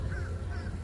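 Outdoor bird calls, faint whistling chirps drifting over a steady low rumble of wind.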